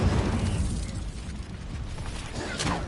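Incendio fire spell cast during Hogwarts Legacy combat: a dense, rumbling whoosh of flame and crackling bursts that swells near the end, loud and continuous over game action, with no one speaking.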